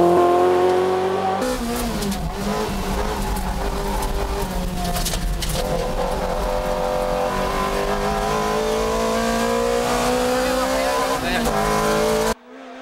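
A widebody, lightened touge car with a race fuel tank in the front drives hard on a mountain road, its engine droning loud and steady with pitch rising and falling through corners and brief tire squeal, before cutting off abruptly.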